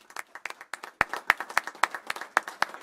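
A small group at a city council meeting claps in applause. The claps are sparse and distinct, close and fairly faint, spread irregularly across a few seconds.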